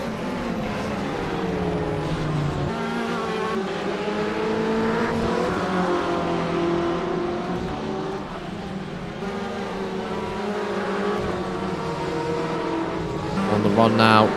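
BMW race car engine in the rFactor 2 sim racing game at Kyalami, a loud steady drone climbing and dropping through gear changes, with other cars' engines blending in and a commentator talking over it throughout.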